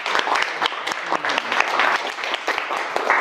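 An audience at an economics lecture applauds, making a dense, steady clatter of many hands clapping throughout.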